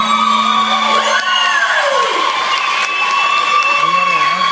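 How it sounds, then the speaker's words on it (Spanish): An audience at a Jenny Rivera tribute show applauds and cheers, a dense wash of clapping and whoops that carries on steadily, with a voice ringing out over it. "les pido un fuerte aplauso Jenny Rivera"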